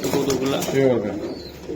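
Pigeons kept for sale, including a blue bar, give soft nearby coos repeated a few times over a brief span, with someone talking over them.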